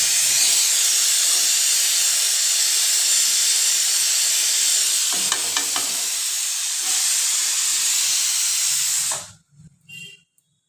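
Steady loud hiss of banana vegetable curry steaming and sizzling in a pan, near and continuous for about nine seconds before it cuts off, followed by a few faint clinks and brief voice sounds.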